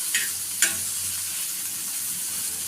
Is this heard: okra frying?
yes